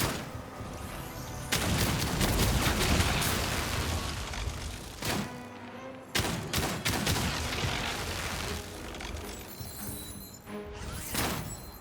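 Gunfire in the video game Outcast: A New Beginning, bursts of rapid shots and booming impacts in several loud volleys separated by brief lulls.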